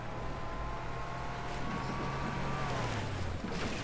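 A steady engine drone from a Warthog vehicle in Halo Wars 2, a continuous low rumble with a faint whining tone that slowly shifts pitch under a constant wash of noise, with no voices.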